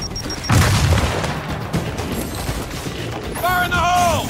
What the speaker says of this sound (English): Throw a frag.